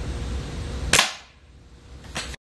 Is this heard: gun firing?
yes